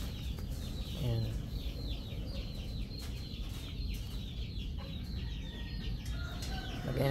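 Black Tiger gamefowl, a racing-line chicken, clucks in short repeated bursts close by amid a noisy farm background, with other birds chirping and a faint voice now and then.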